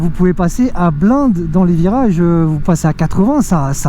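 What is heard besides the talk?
No everyday noise stands out behind the speech.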